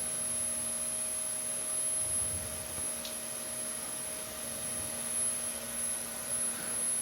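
Small gas turbine running under a constant test load at about 2500 rpm, a steady whining hum with faint high tones over broadband hiss, unchanging and moderately quiet throughout.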